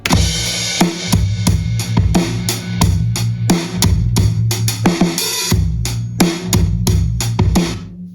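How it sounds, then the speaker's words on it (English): A drum kit slammed hard through heavy compression, giving a crushed, pumping, dense sound with steady hits and a loud, flattened level throughout, no voice present. "I like to nuke the drums with a compressor"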